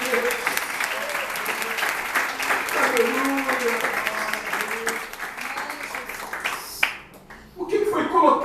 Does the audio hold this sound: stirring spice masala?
no